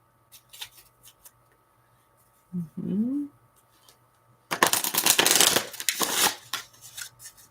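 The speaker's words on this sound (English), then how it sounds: "This takes me a minute to shuffle this deck" A deck of cards being shuffled at a reading table, a burst of dense riffling and flicking that runs a couple of seconds, after an earlier brief sound and light handling noises.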